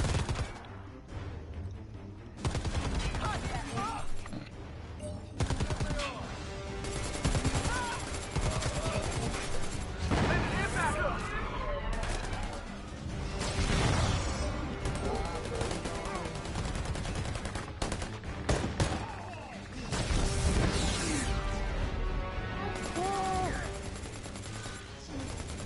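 Enemy gunfire in a jungle shooter video game, dense overlapping bursts and single shots, loud and sustained over a busy game soundscape, with a voice talking at times.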